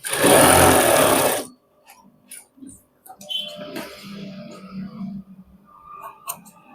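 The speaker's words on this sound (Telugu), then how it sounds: "కొంచెం హాఫ్ టంచాల్లో కుట్టేసుకుంటూ రండి." Sewing machine stitching a back pocket: one loud, dense burst of stitching at the start, then quiet fabric handling, clicks and faint rustling.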